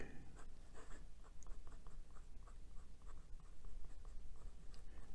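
A Delike New Moon fountain pen with a fine steel nib writes on Clairefontaine 90 gsm paper. It makes a close, continuous, soft scratchy rustle with short stroke-by-stroke bursts.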